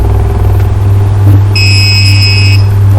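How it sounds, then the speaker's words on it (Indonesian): A steady electronic beep tone from an RFID door lock, signalling a wrong card, sounds for about a second over a constant low hum. "dia akan menghasilkan bunyi beep gitu"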